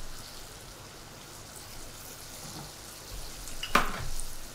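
Onions and mushrooms sizzle in a pan with a steady, soft frying hiss and a few louder crackles and stirring clatters near the end.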